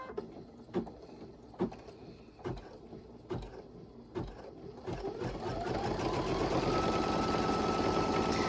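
Embroidery machine stitching the tack-down line on a spooky season bowl filler: evenly spaced mechanical thumps, then a fast steady whirring hum of stitching that swells and holds close and loud.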